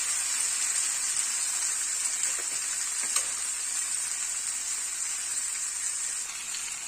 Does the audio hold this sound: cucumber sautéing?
yes